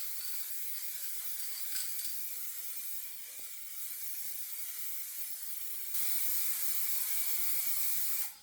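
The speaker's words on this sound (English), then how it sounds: "And we'll do some spraying." Steady hissing spray from an aerosol paint can, continuous and fairly close, with a brief dip midway and a louder burst near the end before it cuts off.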